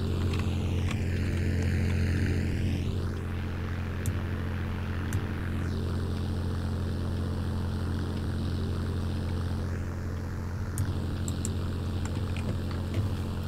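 Propeller airplane engine in the Roblox flight game Plane Game, a steady loud droning hum throughout with pitch sweeps as the engine revs up and down, no talking.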